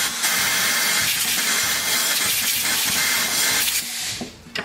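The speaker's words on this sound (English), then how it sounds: "I'm going to take some compressed air." Compressed air blasting carbon out of a Lawn Boy engine during a rebuild, a loud close continuous hiss that holds steady, with faint clanks beneath, then tapers off near the end.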